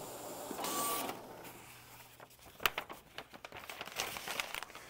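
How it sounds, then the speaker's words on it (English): An HP PageWide XL large-format printer feeds paper from its roll with a steady mechanical whir and rustle of paper, alone and close. "If you hold the button down, it will continue to feed the paper."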